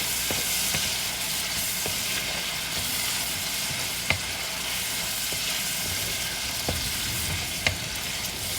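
Chicken and fish balls stir-fry in a pan for vermicelli noodles, a constant loud sizzle broken by occasional sharp spatula clicks against the metal, close up, with no talking.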